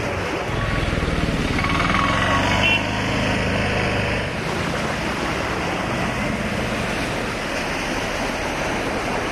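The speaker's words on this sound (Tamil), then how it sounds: "திருவண்ணாமலை சேரியந்தல் ஏரி நிரம்பி சாலையில் பெருக்கெடுத்து ஓடும் வெள்ள நீர்." Floodwater from the overflowing Cheriyanthal lake in Tiruvannamalai pours across a road, making a continuous loud broadband rush and roar with no breaks and faint traffic mixed in.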